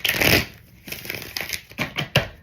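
A Rider-Waite tarot deck being shuffled by hand, a close burst of riffling followed by several quick, crisp card flicks and taps in an irregular rhythm.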